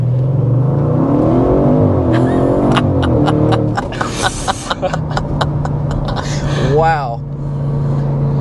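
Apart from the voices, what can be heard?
Audi RS6 Avant accelerating, twin turbo engine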